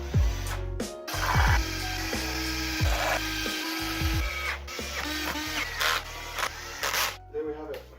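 Screws are driven through a length of 90-degree angle iron into a wooden sleeper for a makeshift scrap anvil, with bursts of a power driver whirring and stopping repeatedly, close by, amid clanking and a speaking voice.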